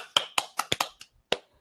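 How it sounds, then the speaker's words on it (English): A few hands clap in a sparse, uneven burst of about eight sharp claps close by, thinning out and ending with one last clap, for a colleague named Amy during a casual staff Q&A session. "Round of applause for Amy."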